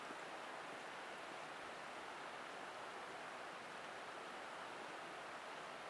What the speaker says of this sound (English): You can hear the river in the background.